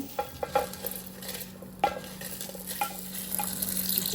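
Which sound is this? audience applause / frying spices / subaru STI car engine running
frying spices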